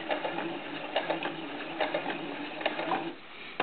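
A sewing machine stitches bias tape onto fabric for a doll diaper, giving a steady, close mechanical whirring hum with regular stitch pulses throughout, with no talking.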